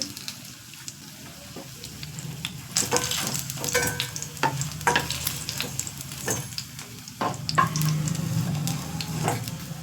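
Fish frying in a pan of hot oil gives a steady close sizzle with bursts of crackling spatter, with no talking.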